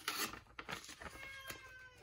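A house cat meows several times in quick succession, close and moderately loud, with faint household noise behind it.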